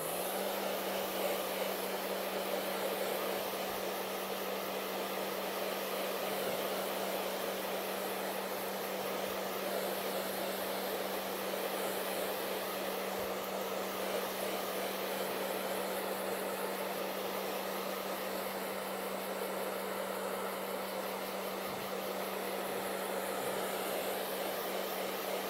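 A hair dryer blows steadily to dry paint on a painting, a loud continuous whir that holds unbroken for the whole stretch with no talking.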